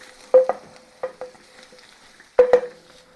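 Garlic sizzles in a pan for mapo tofu, with a thin steady hiss underneath. Stirring gives quiet bursts of louder crackle, two pairs spaced a couple of seconds apart.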